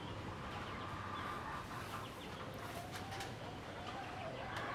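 Oriental Sweater gamefowl, young cocks just released into a pen, cluck and call close by while people talk over them throughout.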